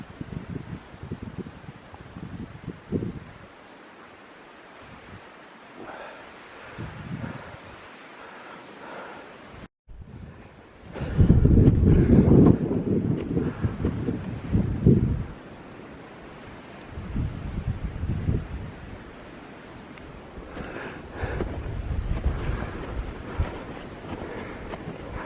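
High winds buffet a winter summit on Mt. Lafayette, roaring in gusts that swell loudest midway, with rushing, blustery noise against the microphone throughout.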